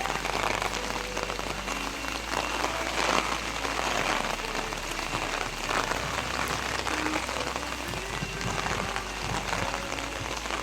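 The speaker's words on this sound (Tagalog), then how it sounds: "Malakas ang ulan, malakas po ang hangin." Heavy rain pours steadily during Typhoon Kristine in Camarines Norte, with strong typhoon winds, a dense, continuous roar that stays loud and unbroken throughout, with no voices.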